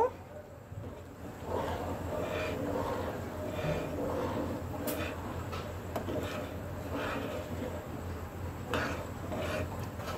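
A spoon stirs and scrapes khichuri, seasoned with ground cumin, around a cooking pot, making a steady rhythmic rasping and clinking that runs continuously at close range.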